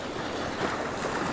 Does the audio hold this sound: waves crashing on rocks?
yes